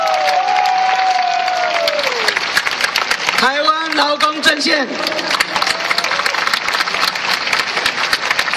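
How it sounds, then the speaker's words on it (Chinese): Audience applause at a Taiwan student movement rally, a loud crowd clapping and cheering steadily while a speaker talks over an amplified system. "请大家给一个掌声。"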